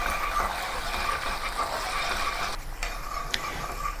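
Sauce for spicy crispy tofu cooking down in a pan, a steady low bubbling sizzle that runs evenly throughout with a couple of faint clinks, no talking.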